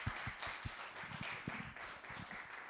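An audience claps after a talk on mobility in Mexico City, a soft, fairly distant patter of many hands lasting a few seconds without voices.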